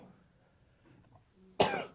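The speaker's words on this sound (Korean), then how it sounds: "이렇게 기침을 콜록콜록 할 정도로 저는 약합니다" One sharp, close cough from a person bursts out near the end after a quiet stretch, with no other voice around it.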